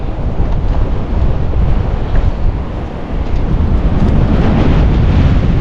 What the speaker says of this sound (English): this is what we're kind of confronted with. A lot of wind.